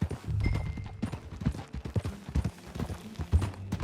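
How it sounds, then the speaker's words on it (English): Horse hooves clip-clop in an uneven walking rhythm, fairly close, with low rumbling background noise. "That a new horse?"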